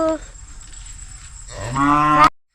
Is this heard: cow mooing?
yes